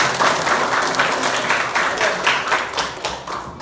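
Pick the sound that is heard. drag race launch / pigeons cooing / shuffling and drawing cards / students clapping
students clapping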